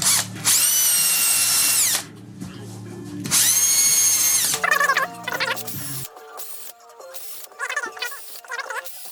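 Power drill running through a 3.5 mm bit into a tin held over a wooden block, in two loud sustained whining bursts followed by shorter, choppier spurts of drilling.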